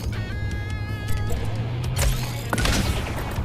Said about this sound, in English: Let's just reload and shoot again.